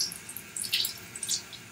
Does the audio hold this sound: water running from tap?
yes